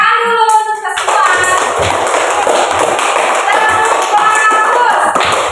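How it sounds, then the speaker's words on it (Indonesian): A classroom of students claps hands together, a loud, dense burst of applause lasting several seconds after a brief tonal sound at the start. "tepuk tangan dulu untuk kita semua"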